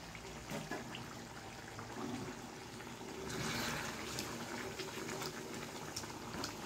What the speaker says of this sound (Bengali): এখন আমি এই চাটা একটু ছাঁকনি দিয়ে মাংসের উপর দিয়ে দেব।